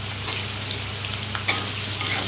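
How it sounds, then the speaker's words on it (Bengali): Potatoes frying in oil in a kadai, a steady close sizzle with faint crackles and a few brief spatters, running alone with no talk over it. "প্রথমে আমি আলুটা ভেজে নেব"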